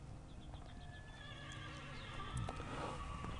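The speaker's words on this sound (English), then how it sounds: "For a five-year-old horse, just five-year-old horse, to start a canter like this" Five-year-old young stallion cantering in a dressage young-horse class, with steady rhythmic hoofbeats on arena footing and an occasional whinny over a constant ambient background.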